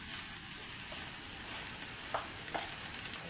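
Garlic and ginger fry in a pan with a steady, soft sizzle, and a few brief scraping stirs cut in near the end.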